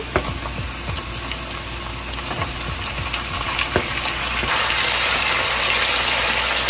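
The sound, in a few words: farm chicken pieces frying with onions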